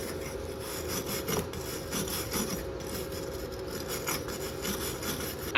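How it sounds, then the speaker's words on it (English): Wire brush scrubbing a flux-core weld from a Harbor Freight Titanium welder, a steady rasping scrape repeated in quick back-and-forth strokes, close and continuous with no talking. "You get a wire brush and wire brush this off."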